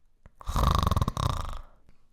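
A voice imitates snoring in one long, rattling drawn-out snore with a brief catch midway, close and fairly loud.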